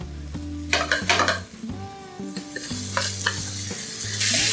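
Spiced potato filling with coriander stirred in a pan for ring samosas, a loud sizzle with scraping and metallic clatter of spoon on the pan, steady hum underneath and a brighter hiss rising at the end, no speech.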